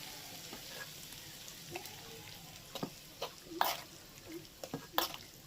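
Hot oil poured into a mango kasundi mix crackles and sizzles, with irregular spitting pops and stirring scrapes that grow busier toward the end, no talk over it.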